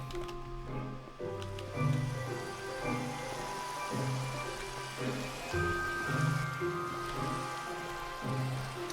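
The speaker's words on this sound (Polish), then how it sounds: "O, akurat zaczęło padać." Steady rain pattering in Minecraft, a continuous wash of drops running through the whole stretch with background game music tones underneath, fairly loud and even, no talking.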